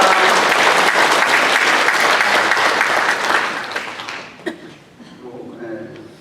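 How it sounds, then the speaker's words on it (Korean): A church congregation applauds in welcome, dense clapping filling the room for about four seconds before thinning out and fading, with a few scattered claps and murmurs at the end. "박수로 환영합니다"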